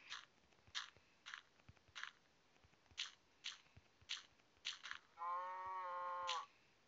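A single drawn-out Minecraft cow moo sounds near the end, preceded by a series of rhythmic crunching, chewing-like noises; clean and fairly quiet overall.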